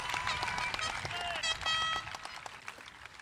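Scattered clapping from a crowd at a high school graduation, fairly light and uneven, mixed with whistles and cheers over a noisy background.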